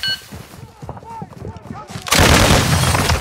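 Gunfire in Call of Duty Modern Warfare II during a hostage rescue on Ashika Island erupts as a loud, dense burst of shots after a quieter stretch of talk and game sounds.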